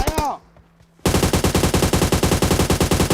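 Rapid automatic gunfire crackles loudly in PUBG Mobile, a dense run of evenly spaced shots after a short quiet gap that follows a few opening bursts.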